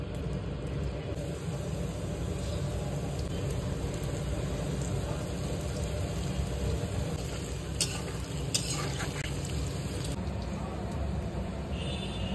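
Palm fritters (tal fuluri) frying in hot mustard oil over medium heat, a steady dense sizzle that holds at an even level for the whole stretch, with a few faint clicks and knocks near the end.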